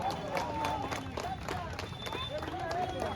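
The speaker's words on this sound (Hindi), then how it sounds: "तालियां तो बजा सकते हो यार।" Crowd applause breaks out at an award ceremony during a Bharat Milap stage event in Tilthi, a steady mass of clapping with some murmuring voices, moderately loud and sustained throughout.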